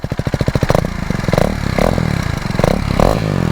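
A KTM Duke 390 single-cylinder motorcycle with a BS4 engine converted to a BS3 exhaust idles with a loud, close, rapid popping beat, then is blipped through several sharp revs that rise and fall.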